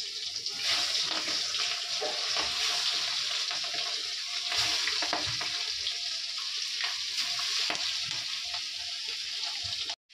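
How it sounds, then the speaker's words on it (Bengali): Salted, turmeric-coated prawns fry in oil in a wok, making a loud, continuous sizzle and crackle close by with occasional stirring clatter, almost without pause. "চিংড়ি মাছগুলো আমি ভেজে নিই।"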